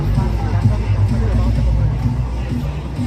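A lakeside fair produces a steady crowd hubbub of overlapping voices, continuous and moderately loud throughout with no single voice standing out.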